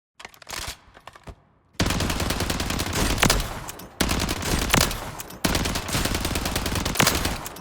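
A gun with a 50-round drum fires in a Warzone video game firing range: a short burst, a pause, then long, loud, rapid automatic bursts with brief breaks between them.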